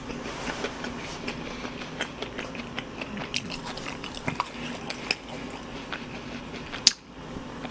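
Fried chicken dipped in cheese mustard sauce being eaten at a Korean mukbang, with steady close biting and chewing and soft wet crunches throughout, and no talking.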